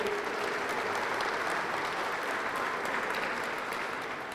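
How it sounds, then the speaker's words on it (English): Steady audience applause from a crowd at a touchdown club press conference in Little Rock, continuous clapping filling the room for founders and board members without pause. "Let's give these folks a round of applause too."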